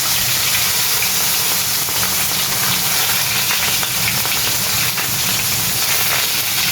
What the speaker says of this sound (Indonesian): Pertama kali goreng ikan di sini.